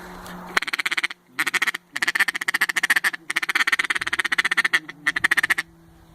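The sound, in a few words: duck call imitating feeding mallards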